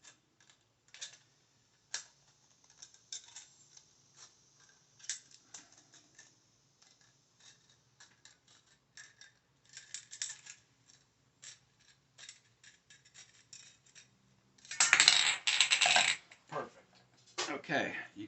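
A thin metal drink can is cut by hand to make an alcohol stove, giving sparse small clicks and scrapes, then a louder crinkling rasp near the end, heard close in a quiet setting.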